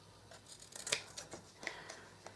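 Scissors snipping through material at close range while it is held tight and cut to the edges in a farmhouse stair and bay window renovation, a run of quiet irregular crisp cuts.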